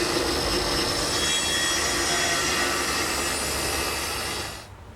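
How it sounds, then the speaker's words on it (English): A circular saw trimming excess siding on a garden shed, a loud continuous high whine of the blade cutting through the material, which stops abruptly at the end. "Now it's just a matter of trimming off the excess with the circular saw"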